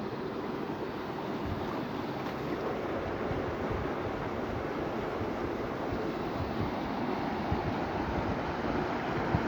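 Floodwater from a 2020 Hyderabad flood rushing in under pressure, a steady loud broadband roar and churn with no break, close by and alone.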